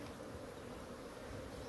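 Honey bees crowded inside a hive that has run out of space give a dense, steady buzzing hum, close and continuous throughout with no voices.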